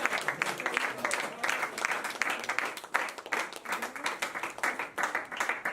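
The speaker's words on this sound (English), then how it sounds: "give us a big hand, round of applause for DeMaris" A big group audience applauds a performer at a rhyme and reason event: dense, steady clapping from many hands fills the whole stretch at moderate loudness, with no voices.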